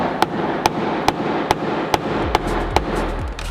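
Sharp, evenly spaced taps, about eight in a row, strike the stuck door of a 1957 Chevrolet Bel Air barn find, close and crisp, with a low thud or two near the end.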